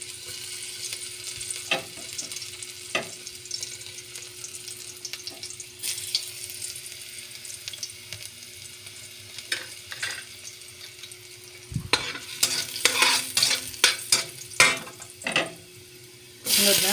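Garlic sautéing in a home kitchen pan, a low steady sizzle with occasional clinks and scraping stirs growing busier toward the end, no talking.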